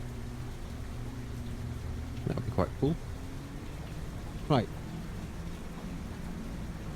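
Rain in the farming video game Farming Simulator 25 makes a soft, steady hiss in the background, faint and continuous beneath a few short bursts of a man's speech.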